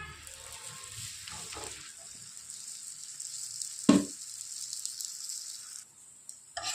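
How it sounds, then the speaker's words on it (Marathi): A chapati sizzles in butter on a hot pan, a steady close frying hiss with a brief clatter midway as it settles, no talk. "हे बघा बटर लावून घेते मी त्याच्यात टाकताय चपाती"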